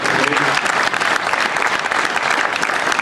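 Loud, close crowd applause fills a carnival throne speech in Martelange, Belgium: brisk overlapping claps from many people, sustained throughout without pause or spoken words.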